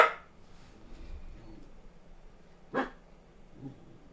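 A dog barks twice, first at the very start and again a few seconds later, each a short sharp bark at moderate distance over a quiet room.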